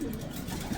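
A racing pigeon coos softly in a short, low, throaty murmur, close by, in a loft.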